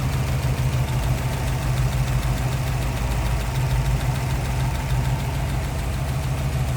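A 1955 Mercury Montclair two-door hardtop with a 292 V8 idles loudly and evenly close by, a smooth, steady low rumble with a fine regular pulse throughout and no voices.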